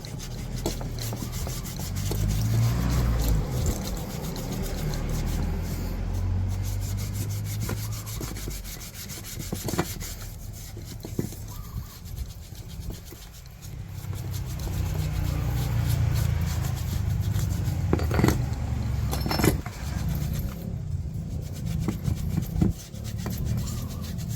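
Scrubbing a brake caliper clean after soaking it in cleaner, with steady rasping rubs in close repeated strokes, loud and continuous with a few brief pauses.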